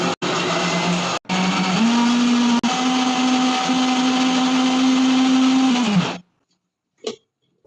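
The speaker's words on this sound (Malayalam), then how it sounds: "ഇനി നമുക്കിത് നല്ലോണം മിക്സ് ചെയ്തെടുക്കാം." A blender whirs loudly and steadily for about six seconds, purée-ing banana with Lays potato chips, its motor pitch rising slightly as the mix thickens, then cutting off abruptly into near silence with one brief knock afterward.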